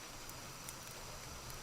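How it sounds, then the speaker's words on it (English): Fire crackling in a hall's wall fireplaces while rain patters steadily on the roof, a soft, continuous low-level wash with faint scattered crackles and no clear talk. "You hear the fire crackling, the rain hitting off the roof."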